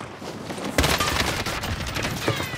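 Automatic gunfire in Call of Duty Warzone, a dense rapid fusillade of loud, close shots erupting suddenly and rattling on continuously until the end, with no voices.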